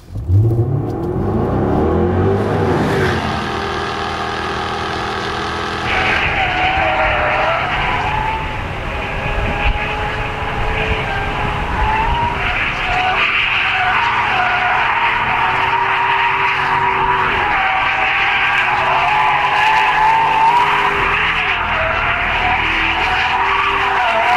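A 2012 Jaguar performance car restarts on a track in Portugal: a loud engine roar rises and holds with shifting revs, with tires squealing and skidding through the run, close and with no talk.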